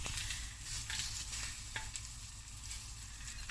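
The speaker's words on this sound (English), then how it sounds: "I've got some olive oil, about 2 tablespoons, and I'm going to put in my prawns that has been cleaned" Cleaned, seasoned prawns fry in about two tablespoons of olive oil in a pan, giving a steady close sizzle and crackle with faint stirring scrapes and no talking.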